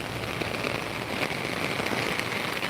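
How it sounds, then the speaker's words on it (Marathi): Heavy rain pours down steadily on a dark, overcast day, a dense, even hiss of drops striking surfaces close by, continuous and unbroken throughout. "भरपूर पाऊस चालू आहे बघा"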